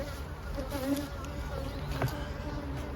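Honey bees buzzing around an open hive during a honey flow, a steady close droning hum with individual bees flying past, fairly faint and continuous, no talk.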